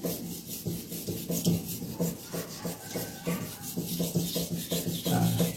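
A golok blade is drawn back and forth over a fine mountain whetstone in steady, rhythmic rasping strokes, close and moderately loud, with no talking.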